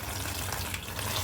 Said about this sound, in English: Let me just get some